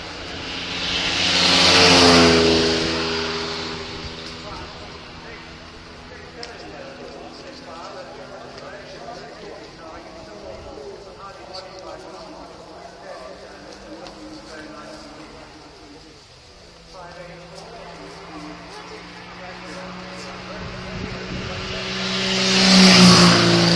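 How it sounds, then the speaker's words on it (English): Lamborghini cars rush past, each swelling to a loud engine roar with a falling pitch as it passes, one at the start and another at the end, with a quieter stretch between and voices talking over it. "Lamborghinis come up."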